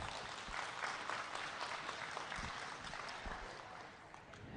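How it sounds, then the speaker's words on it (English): Audience applause at a junior beef cattle show, a dense patter of many hands clapping at a moderate distance, sustained and even throughout. "how about a big round of applause for these novice showmen?"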